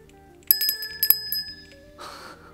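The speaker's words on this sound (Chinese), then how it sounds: "哦，是一个铃铛" A small bell gives a few quick bright rings in two bursts, near and clear, then a brief rustle follows in an otherwise quiet room.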